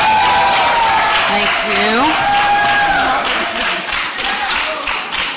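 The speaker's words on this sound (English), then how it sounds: "Please, again, hold your applause." Audience clapping at a Miami-Dade and Broward Democratic congressional district candidate forum, a brief burst of applause from a live crowd heard under a speaker's voice as he thanks them.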